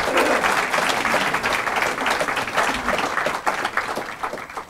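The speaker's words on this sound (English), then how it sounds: "how about a round of applause for Eric Eggers?" An audience applauds author Eric Eggers after his talk on election fraud, a dense, steady wave of clapping that fills the room for several seconds before slowly thinning toward the end.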